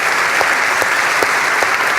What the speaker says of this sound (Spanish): Y hoy, aprovechando que no está Héctor, vamos a darle un aplauso a su señora madre